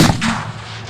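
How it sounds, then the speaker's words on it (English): A single loud gunshot with a sharp, booming report that fades quickly, close and alone. "that was another gunshot!"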